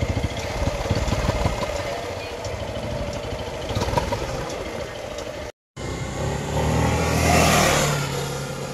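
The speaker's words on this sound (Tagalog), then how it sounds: "Ito naman yung ating actual exhaust sound." A SYM ADX TG 400 adventure scooter's exhaust idles and burbles at close range, then after a brief gap the engine revs up loudly and settles back down.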